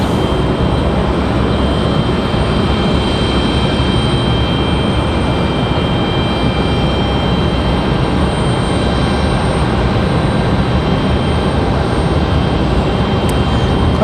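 An American Airlines jet airliner sits at Raleigh-Durham airport, its engines producing a loud, constant, unbroken roar with a faint steady whine held throughout.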